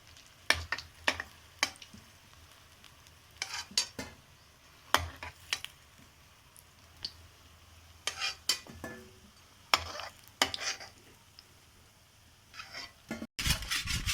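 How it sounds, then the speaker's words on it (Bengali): Jackfruit kofta balls frying in a pan during preparation of a jackfruit kofta curry, heard as intermittent bursts of sizzling and stirring scrapes with quiet gaps, fairly faint and close, ending in a louder rush. "দেখুন, এটা একদম ভাজা হয়ে গেছে।"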